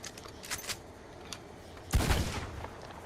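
Shotgun fire in Red Dead Online: a few faint, distant pops, then one louder booming blast with a rumbling tail, set against low background noise.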